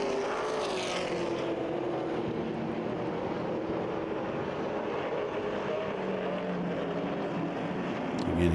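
Late model race cars at Kil Kare speedway roaring past on the track, a sustained, fairly distant engine drone that swells as the pack comes through the turns, with no talk over it.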